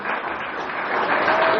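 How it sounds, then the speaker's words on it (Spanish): A church congregation applauds steadily, dense clapping that holds at a strong level and swells slightly toward the end, with no voices. "¿Le puede dar un fuerte aplauso al que se lo merece?"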